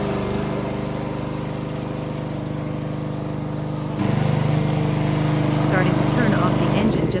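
Wheeled radio-controlled grass cutter, model VTW550-90 with electric start, its small engine running at a steady idle hum, then stepping up louder and rougher midway.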